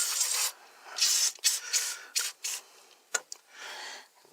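Cleaner sprayed onto an indoor air handler's evaporator coil near the metering device, heard as a series of short hissing bursts of varying length with brief pauses between them, close up and with no talking.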